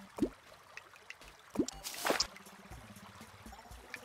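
Water flowing and dripping in the game Terraria, with soft pouring and trickling splashes at a moderate level, a few sharper drips, and a brighter gush near the middle.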